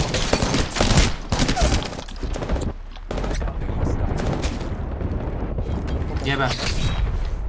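Bombardment explosions in the battle royale shooter Apex Legends, dense booming blasts and gunfire rolling continuously under excited voices talking throughout.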